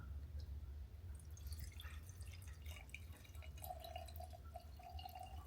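Green tea is poured, a faint trickle and drip of liquid over low background hum, quiet and close.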